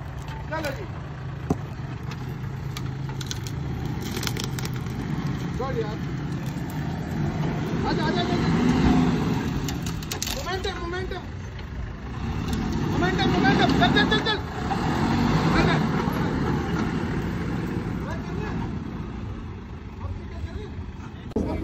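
A fully modified car drives past at an outdoor car power show near Khanpur Dam, its engine swelling twice above a crowd's steady murmur and chatter, with voices talking throughout.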